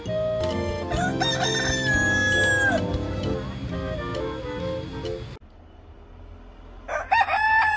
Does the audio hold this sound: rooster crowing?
yes